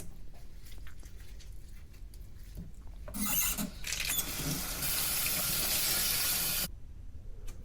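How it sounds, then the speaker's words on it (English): A kitchen sink tap runs steadily while salmon is washed with lime, a broad splashing rush under and after a few faint clicks and clatter. "I'm going to wash the salmon with lime"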